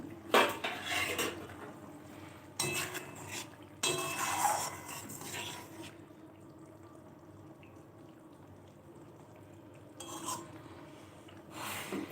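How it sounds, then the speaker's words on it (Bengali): A cooking pot's lid is lifted while matar paneer cooks, giving metallic clanks and scrapes in several short bursts, loudest at the start and again near the end, with quieter kitchen sounds between. "এটা আমি এবার ঢাকনাটা খুলে দেখি যে এখানে কী অবস্থা রয়েছে"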